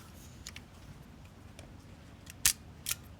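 A faint winding tick is followed by the crisp double click of an Agfa Silette I film camera shutter released at 1/60 second, close and isolated against a quiet background.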